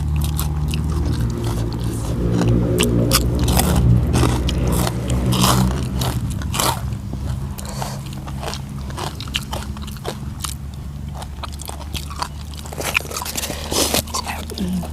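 Crunchy chewing of squid tentacles and shrimp in a spicy Thai seafood salad, heard as close, wet crunches and bites in an uneven rhythm over about fifteen seconds, with a voice talking at times.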